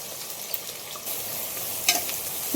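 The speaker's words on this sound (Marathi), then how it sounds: "तेल तापलं आहे आता यात टाकते मी कांदा आणि लांब थोडेसे लांबडे असे मिरचीचे तुकडे केलेत" Onion and long-cut chili pieces frying in hot oil, a broad steady sizzle that brightens after about a second with a sharp crackle burst near the end, no voices.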